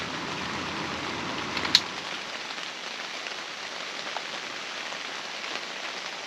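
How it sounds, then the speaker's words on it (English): Rain patters steadily on a tent during a tropical storm, a dense even hiss with a fan whirring underneath at first, then the fan cuts off and the rain carries on alone. "I don't know if y'all can hear the rain or if the fan is drowning it out"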